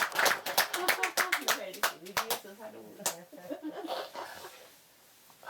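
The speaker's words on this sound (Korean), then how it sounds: "박수가 나올 때도 있는데." A scattering of audience hand claps during a Buddhist lecture, a dozen or so sharp slaps in the first two seconds, then a few stragglers fading under murmuring voices.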